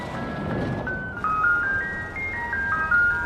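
An ice cream truck's chiming jingle plays a stepped melody as the van approaches in a film scene, steady and fairly clear over a low background rumble, with no one talking.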